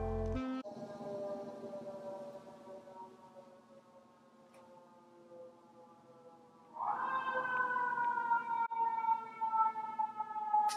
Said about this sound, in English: there are sirens outside.